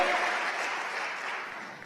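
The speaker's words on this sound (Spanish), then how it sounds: "Démosle palmas al Señor" A church congregation at a Spanish-language service applauds in a steady wash of clapping, fairly distant and fading slightly over a couple of seconds.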